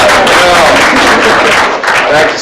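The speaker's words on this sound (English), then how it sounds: "Let's hear applause for that." Loud applause from the audience at a special education consortium symposium for universities, a dense, close burst of clapping that eases slightly toward the end, with some crowd voices mixed in.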